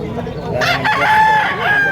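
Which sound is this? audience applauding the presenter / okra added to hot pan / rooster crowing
rooster crowing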